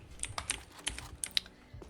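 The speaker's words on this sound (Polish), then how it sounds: "Masz w ogóle klawiaturę mechaniczną, co nie?" Fingers typing on a mechanical keyboard during a CS:GO session, a quick uneven run of about eight sharp clicky keystrokes, close and clear with no talk over it.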